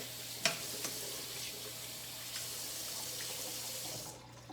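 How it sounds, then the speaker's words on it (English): Running tap water flows steadily into a sink while a Norwex cleaning cloth is rubbed and rinsed under it, with a few faint knocks and soft wet rubbing nearby, quiet and without talk. "I'll just give it a good rub like this under the water to make sure that everything's coming off of the rag."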